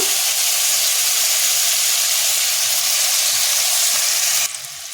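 Garlic sizzles and fries hard in a hot pan as tomato goes in, a loud, steady hiss of frying for several seconds that drops off sharply near the end.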